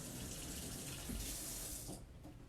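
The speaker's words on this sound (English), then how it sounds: "take a clean paper towel to turn off the faucet" A sink faucet runs with a steady splashing hiss, then is shut off with a paper towel, the water cutting out abruptly near the end and leaving a quiet room.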